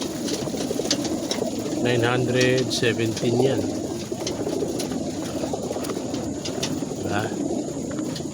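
Pigeons cooing inside a crate before a release, soft repeated throaty coos close by amid a steady din of many birds, with someone talking over them.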